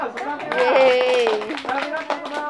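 Scattered clapping from a small audience after a talk, sharp separate claps under prominent voices and a cheerful vocal cheer.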